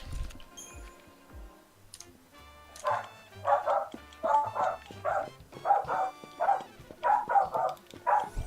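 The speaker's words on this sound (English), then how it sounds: "That's my dog." A dog barks repeatedly in a steady series of close, sharp woofs over several seconds, with quieter game sounds in the background.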